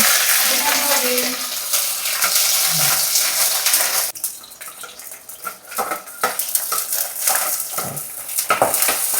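Urad dal, chilli and curry leaves sizzling in hot oil, loud and close, with a bright spitting hiss that thins after a few seconds into quieter crackles and occasional utensil clinks.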